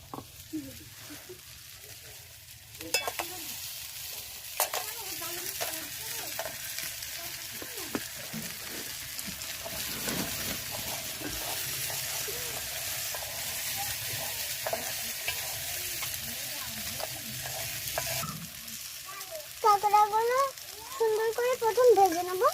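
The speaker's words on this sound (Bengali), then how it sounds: "আর কেটে রাখা কাঁকড়াগুলো দিয়ে দেবো" Cut crab pieces fry in a pan with a steady low sizzle and scattered stirring clatter, faint and close, with a brief burst of louder activity and a voice-like sound near the end.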